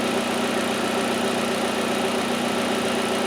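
Hyundai Elantra engine idling at about 900 RPM: a constant, even mid-pitched hum and rumble heard up close, with no voices over it.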